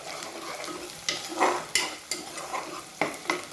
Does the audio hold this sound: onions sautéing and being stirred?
yes